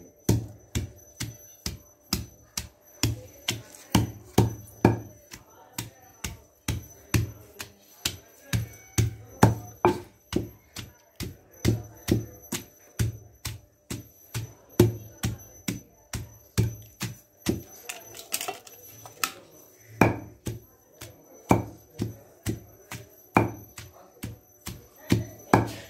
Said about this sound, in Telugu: ఇలా రోట్లో వేసుకొని చక్కగా తొక్కుకోవాలి